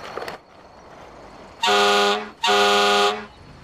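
Two long, loud horn blasts with a rich harmonic tone, each lasting under a second, separated by a brief pause, after a short faint noise at the start.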